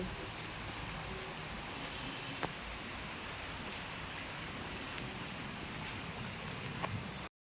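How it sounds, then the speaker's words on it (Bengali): Unseasonal rain falls steadily on a wet road, a soft even hiss with a few faint drips and taps standing out, no one speaking. "দেখো বৃষ্টি হচ্ছে এখন অসময় বৃষ্টি"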